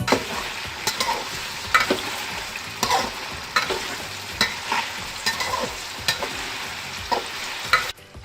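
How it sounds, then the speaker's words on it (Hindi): Chicken fries with onions in a pan, a steady sizzle broken by regular scraping stirs roughly every second, fairly close, with no voices. "we will fry chicken inside the onion"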